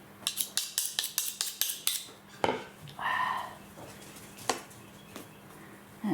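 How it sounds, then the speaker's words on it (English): A knife being sharpened while skinning a deer hide: a quick run of about ten crisp, evenly spaced metallic strokes, close and fairly loud, followed by scattered scrapes and clinks. "I need to sharpen the knife."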